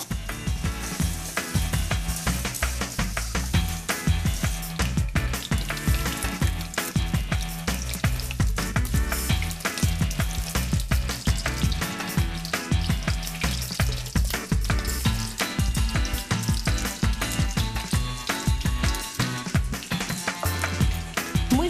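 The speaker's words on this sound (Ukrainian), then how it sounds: "Бачите, як вони шкварчать на нашій з вами галицькій пательні." Meat patties frying in a Galician-style frying pan over the heat, giving a dense, continuous crackling sizzle with constant popping, loud and close, with no talking.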